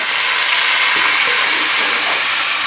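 Ginger and garlic added to onions frying in oil produce a loud, dense, steady hiss of sizzling that fills the whole short stretch without pause, with no voices.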